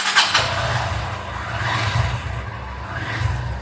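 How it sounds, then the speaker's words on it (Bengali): A motorcycle engine starts up, followed by a low, steady idling rumble that stays close and fairly loud throughout. "তো বাইক স্টার্ট দেই।"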